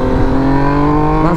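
An old car's engine runs with a steady, rich harmonic drone close by, its pitch climbing sharply at the very end as it revs to pull away, with no talking.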